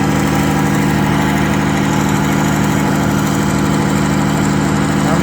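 A diesel engine powers a sawmill cutting square lumber, running loud and constant with a dense, even rumble and steady mechanical drone throughout, with no voices over it.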